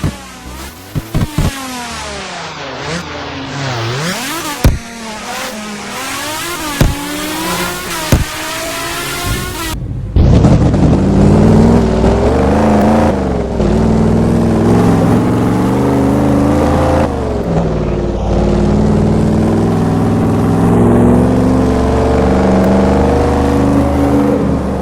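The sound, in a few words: car engine revving in Roblox game Midnight Chasers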